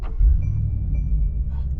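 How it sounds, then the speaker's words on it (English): Deep, throaty engine rumble from a Mercedes-AMG G63 heard from inside the SUV, a steady low drone that holds for a couple of seconds with no talking. "I love the throaty, like muscly sound of this car"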